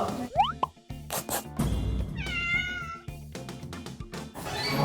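A cat meows several times in short rising cries, mixed with plopping sounds, irregular bursts and a louder wavering meow in the middle.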